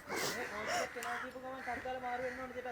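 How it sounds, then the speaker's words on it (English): Crows cawing repeatedly at a beach, fairly loud and close, with people talking over and between the harsh calls. "tell the birds to shut up"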